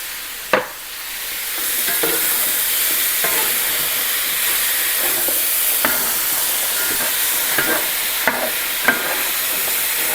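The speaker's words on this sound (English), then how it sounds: "So we're just searing them till they get a nice sear on the outside." Vegetables for beef bourguignon sear in a hot pot, a loud continuous sizzle and hiss with occasional sharp clicks of stirring, no voices.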